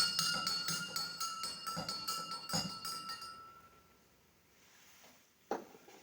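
Potassium permanganate being stirred into water in a glass, a quick run of bright clinking taps from a utensil against the glass that fades after a few seconds, with one last faint clink near the end.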